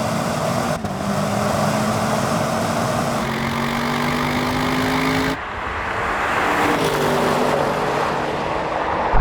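Several high-performance estate cars, a BMW M5, an Audi RS6 Performance and a Mercedes-AMG E63S, roar flat-out in a drag race, loud sustained engine notes climbing through gear changes with brief drops between shifts, no talk.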